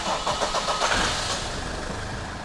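A car engine cranks and catches, then settles into a steady running hum, fairly close and moderately loud.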